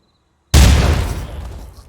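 A grenade detonates in a police tactical video game: sudden loud, deep boom after half a second of silence, then a rumbling decay that fades out over more than a second, with no voices.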